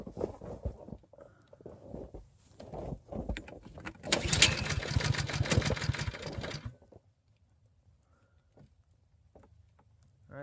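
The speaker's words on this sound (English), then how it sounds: "I got the choke on now, and now I'm going to go ahead and give it a pull" A snow blower engine is pull-started with the choke on, giving a few rough bursts and sputters before catching into a short loud run, then cutting back to a faint low idle.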